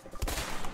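Gunshots in the video game A Way Out: a single short, close report with a low thump, then a brief rumbling tail.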